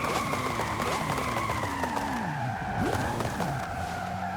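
A Lamborghini spinning out on launch in Forza Horizon 5, with a loud, continuous engine roar and sweeping tire squeal as the car slides, steady and close throughout, no voices.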